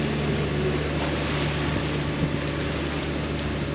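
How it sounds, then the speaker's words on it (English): Sailboat motoring under engine power at sea, a loud steady engine drone with a low hum, and water rushing and washing along the hull, continuous and without voices. "So we're motoring back on course."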